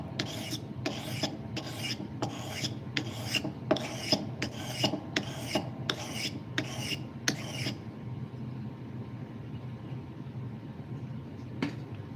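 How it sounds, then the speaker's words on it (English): A blade being sharpened by hand, about ten rhythmic rasping strokes in a steady back-and-forth pattern, close and clear, then stopping, leaving a quiet hum with one faint click near the end. "when you're sharpening, do you hear resistance when you know it's sharpening at the right angle?"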